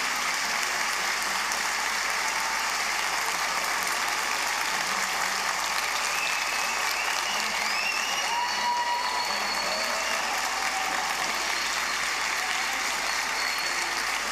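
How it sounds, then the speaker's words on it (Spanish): An audience at a public municipal accounts session in San Miguel applauds the mayor with sustained, loud, even clapping throughout, backed by a constant hum and a few faint tonal squeaks. "Brindemos un fuerte aplauso a la alcaldesa Erika Martínez Osorio"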